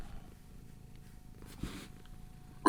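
A cat purrs softly and steadily at close range, a faint low rumble under quiet room noise with no talk.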